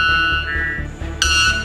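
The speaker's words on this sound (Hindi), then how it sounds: "Number 3 white bell bird. इसकी आवाज किसी जंग के सायरन की जैसी है।" White bellbird call: loud, sustained ringing metallic tones that jump sharply higher partway through, heard alone over a low pulsing background.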